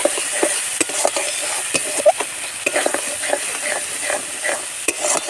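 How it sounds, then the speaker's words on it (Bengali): Spices with coriander and cumin powder stir-fried in a pan for prawn do pyaza, with loud sizzling and repeated scraping of the spoon in an irregular rhythm, close up, no talking. "আর এটাকে ভালো করে কষে নেব।"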